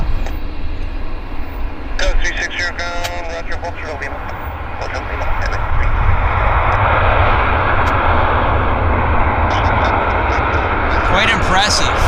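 A WestJet airliner takes off on a wet runway at Vancouver airport, its engine roar building into a loud, steady rush of jet noise that swells and holds, with a few brief sounds near the start.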